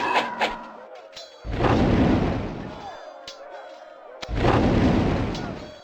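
Artillery fire booms out in Warhammer: Shadow of the Horned Rat, with two heavy blasts and long rumbling tails separated by quieter battle ambience and short cracks, loud and close.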